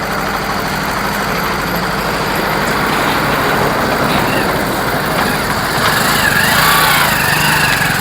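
A new motorcycle idles steadily nearby as it is rolled out, a continuous low engine drone mixed with outdoor road traffic and faint background voices.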